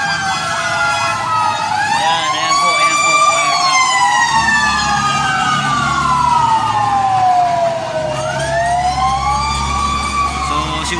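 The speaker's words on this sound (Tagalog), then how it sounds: "May fire truck pang darating." Fire truck sirens wail continuously near a fire in Parañaque, rising and falling loudly as several trucks pass close by, with street rumble and traffic underneath.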